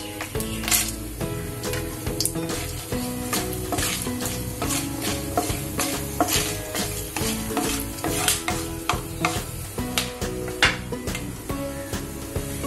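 Bay leaf, cinnamon, clove and black pepper sizzle in oil over a low gas flame for a Khandeshi patodi rassa, with steady frying hiss, stirring scrapes and light clinks of a spoon against the pan, over a tonal musical backing.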